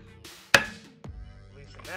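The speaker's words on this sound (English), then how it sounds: "Just take a hammer" A hammer gives a single sharp metallic strike on a BMW F3X rear brake rotor, followed moments later by a duller thud, with quiet background in between.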